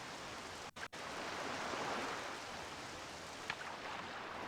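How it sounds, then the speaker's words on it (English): Steady rain in Zelda: The Wind Waker hisses continuously at a soft, even level, with a brief dropout near the start and no voices. "Oh yes, the rain."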